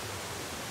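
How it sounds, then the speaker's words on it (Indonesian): Water rushes down a multi-tier waterfall at Lata Chermin in a dense, continuous roar, close and steady throughout with no pauses. "kami telah pun sampai ke air terjun tingkat yang ketiga"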